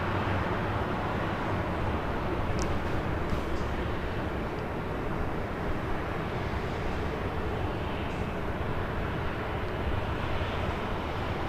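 A Southwest Airlines Boeing 737-700 jet, flight 167 to Houston, Texas, at Los Angeles airport, a steady, fairly quiet engine rumble holding evenly throughout with no talk.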